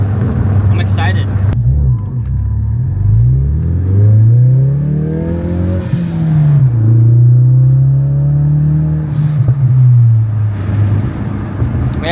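A car driven in track mode accelerates, its engine climbing and easing in pitch through several pulls, loud and close inside the cabin while people talk over it.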